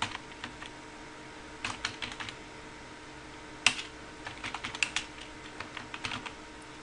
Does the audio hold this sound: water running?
no